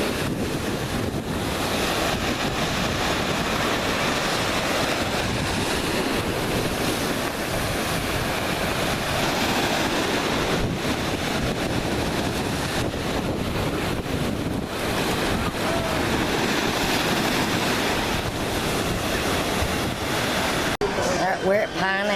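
Heavy, rough ocean surf pounding a beach, a continuous loud roar of breaking waves with strong wind buffeting the microphone throughout.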